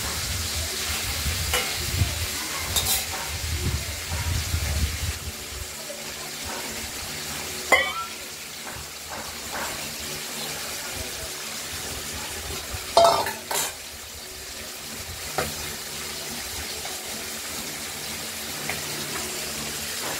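Rohu fish head frying in a pan, a steady sizzle with occasional spatula scrapes and sharp clanks against the pan, close and fairly even, with no voices.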